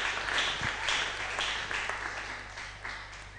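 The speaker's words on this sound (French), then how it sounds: "Alléluia, acclamons Jésus." A church congregation applauding during a worship service, a broad wash of clapping that rises early then gradually thins and fades, with faint voices mixed in.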